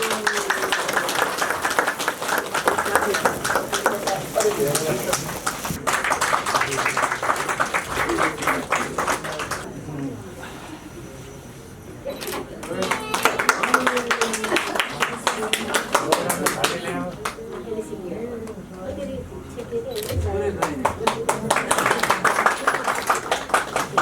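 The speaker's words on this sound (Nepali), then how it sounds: "ल ताली बजाइदिनु।" Wedding guests clap together at a Nepali Christian wedding, bursts of applause rising in waves between stretches of a speaker talking into a microphone.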